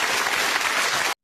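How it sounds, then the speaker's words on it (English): Studio audience on a daytime talk show gives a short burst of loud, dense applause that cuts off abruptly after about a second. "Give him a round of applause"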